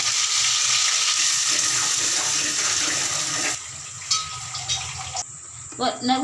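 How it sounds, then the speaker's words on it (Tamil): Water is poured into a pan of Tamil-style fish curry as a steady rushing stream for a few seconds, followed by a quieter stretch with brief clatters and a voice speaking near the end. "கரைச்சி வச்சுட்டு தண்ணி ஊற்றி விடுங்க"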